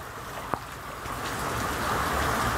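Steady rain falling outside a flooded house, a dense continuous hiss that slowly swells, with one sharp tap early on and no talk.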